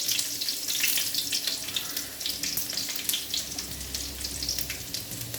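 Shallots, green chilies and curry leaves frying in a pan, giving a dense crackling sizzle with bright spattering bursts, steady and close throughout with no voices.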